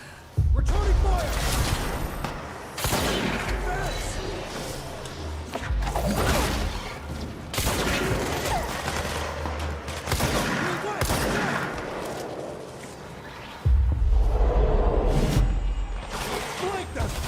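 Sustained bursts of gunfire in the action video game Control fill the stretch, loud and dense with sharp cracks and whooshes, pausing briefly before another heavy volley near the end.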